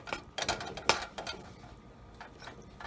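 Spoon scraping and clinking against a pot or bowl while soy sauce is stirred into turkey, a few close, quick metallic scrapes that fade to quiet kitchen background.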